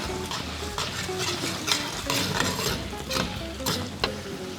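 Crab sizzles in a pan with oyster sauce and Worcestershire sauce under a steady, busy fry, while a utensil stirs and scrapes against the pan in repeated clanking strokes.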